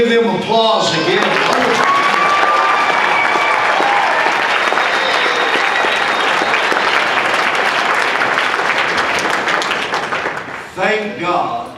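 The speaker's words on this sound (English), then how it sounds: "Would you give them applause again?" Loud, sustained audience applause after a church Christmas play of A Christmas Carol, dense clapping filling the room for about ten seconds with scattered voices and cheers, then tapering off as a speaker begins.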